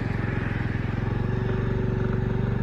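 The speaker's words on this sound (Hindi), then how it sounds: "स्टार्ट कर दिया मैंने बाइक को" A motorcycle engine idles steadily just after being started, a loud, close, even chugging pulse with no talk over it.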